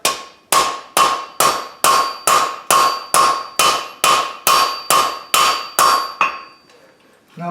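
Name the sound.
hammer peen striking hot iron while forging a wreath hook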